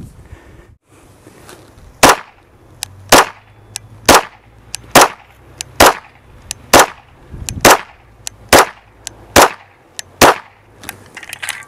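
.45 ACP pistol fired at a self-healing target, about a dozen sharp, loud shots in a steady paced rhythm, each a crisp crack with short decay, no talk over them.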